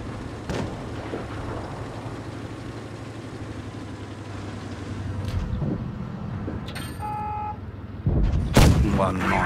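A tank cannon shot in World of Tanks Blitz booms out near the end, sharp and heavy, over a continuous low engine rumble and battle ambience, with a brief electronic chime just before it.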